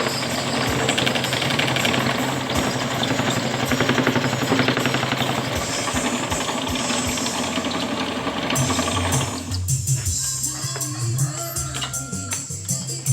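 Electric wood-chiseling mortiser (mesin bobok) driven by a dynamo, a loud rapid mechanical hammering and whirring that runs steadily and then shifts to a rougher, uneven clatter near the end.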